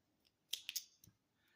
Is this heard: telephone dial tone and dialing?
no